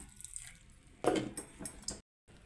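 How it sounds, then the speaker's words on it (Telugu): Water poured from a tap or vessel into soaked dal batter for dahi vada, a close splashing trickle in two or three short bursts separated by brief pauses. "ఇప్పుడు మెదగడానికి కొద్దిగా వాటర్ వేస్తాను"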